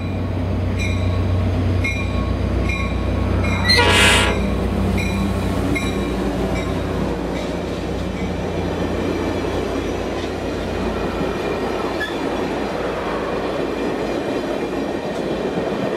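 Amtrak Spirit of California passenger train at Martinez, with steady rail rumble, a sharp whistle or horn burst early on, wheel squeal and clickety-clack as the cars roll past, fairly close and without talk.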